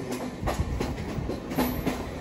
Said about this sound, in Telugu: సర్రని వచ్చేసింది ఈ ట్రైన్. డబల్ డక్కర్ తిరుపతి నుంచి విశాఖపట్నం అయితే వెళ్తుందా బండి